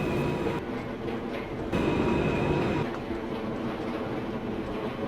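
A subway train in the OpenBve simulator rolls along with a steady rumbling drone and faint rail clatter, its level shifting in a few abrupt steps.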